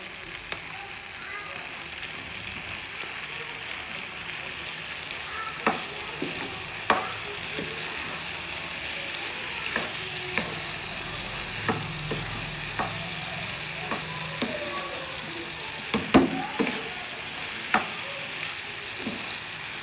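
Green chutney goes into macaroni sizzling in a pan, giving a steady frying hiss with scattered stirring clicks and scrapes across the whole stretch, moderately loud and without talk.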